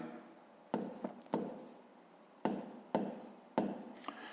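Pen or chalk strokes writing out a fraction subtraction for a fifth-grade math exercise, in several short scratchy bursts separated by pauses, close and quiet in a calm room.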